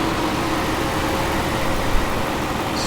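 A 2016 Nissan NV3500 SL van engine idles with a steady, even low hum that stays constant throughout, with no talking over it.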